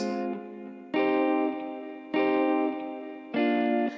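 A live-played guitar, layered over a chord in an Afro swing beat, rings out in three sustained strummed chords, each one struck and left to decay slightly before the next, with a bright processed tone.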